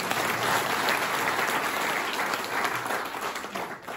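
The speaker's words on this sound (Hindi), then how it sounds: "ताली बजाओ," Steady audience applause during a Hindi shayari recital, a dense, even roar of many hands clapping that holds at a constant level throughout.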